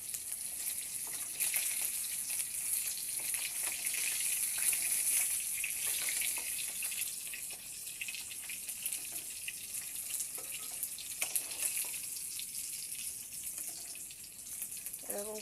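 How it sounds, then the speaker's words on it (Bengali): Fish sizzle steadily in hot oil in a pan, a continuous bright hiss with faint crackles, close and moderately loud, without speech. "দেখুন বন্ধুরা, এইরকম করে ভেজে নিচ্ছি মাছগুলো।"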